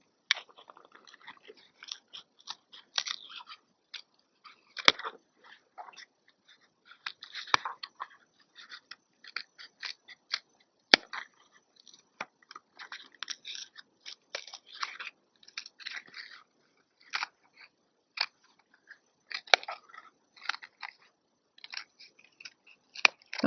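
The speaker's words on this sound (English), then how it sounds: "This is best to do with a pair of short, sharp scissors." Short sharp scissors snip around the outline of a non-woven stitching base for a beaded bracelet, giving a long run of quiet, crisp cutting clicks in irregular bursts, close and alone with no talking.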